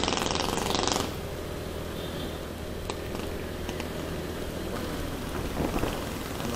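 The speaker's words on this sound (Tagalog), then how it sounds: "Maulan yung ating panahon." Steady rain falls behind a house, a dense and even hiss that holds for the whole stretch after a few faint clicks at the start.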